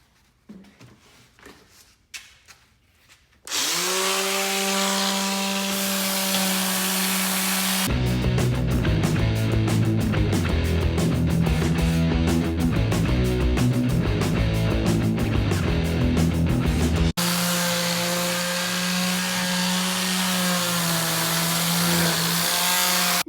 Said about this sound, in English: Now it's time to sand it down.